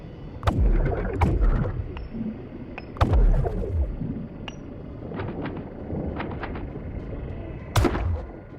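Muffled underwater gunshots in a John Wick movie scene, several dull thumping bursts spaced a second or more apart amid low murky rumble.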